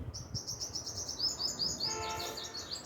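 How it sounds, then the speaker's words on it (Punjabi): Myna birds chirp in quick repeated bursts, a lively string of bright calls close by, over a quiet outdoor background. "ਗਟਾਰ ਆ ਗਈ ਹੈ ਜਿਹਨੂੰ ਮੈਣਾ ਵੀ ਕਹਿੰਦੇ ਆ"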